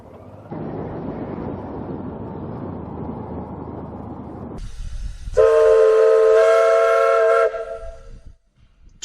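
A train at the Brecon Mountain Railway rumbles along steadily, then a loud, piercing steam whistle blows for about two seconds before fading out.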